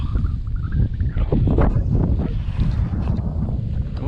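Strong wind buffets the microphone at sea on a small boat during crossbow fishing for needlefish, a steady roaring rumble with faint water and motion sounds underneath.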